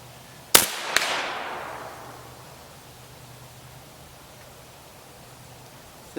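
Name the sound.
20mm air pistol shot at target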